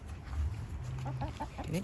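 Hens cluck softly in short, bubbly bursts nearby, with a low rumble underneath.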